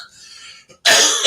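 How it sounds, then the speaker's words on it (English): A single sharp cough bursts out after a brief moment of quieter sound, loud and close. "Here I go, coughing and shit."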